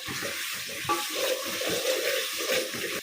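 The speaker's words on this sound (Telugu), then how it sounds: "హై ఫ్లేమ్లో ఈ మసాలా అన్నిటి మొత్తాన్ని కూడా దూరగా ఫ్రై చేసుకుందాము." Biryani masala frying in a pot over a high flame, giving a steady close sizzle with stirring scrapes throughout and no talk.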